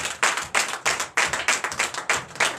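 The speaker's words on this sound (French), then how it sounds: "donnez de vive acclamation à notre Seigneur Jésus." Church congregation clapping in unison during a Sunday worship service in Benin, loud, close, rhythmic claps in regular pulses about three per second with no speech.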